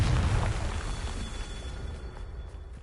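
Confringo fire spell explosion in Hogwarts Legacy: a loud, rumbling burst at the start that fades into a hissing, crackling decay over a few seconds.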